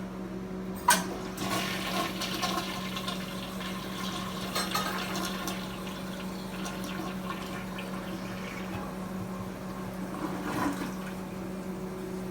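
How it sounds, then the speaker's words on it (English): A toilet flushes after its bowl has been cleaned with vinegar and dish soap, the rushing water swirling and refilling steadily for over ten seconds, close by with a low hum underneath. "So when we flush, it's gonna be clean."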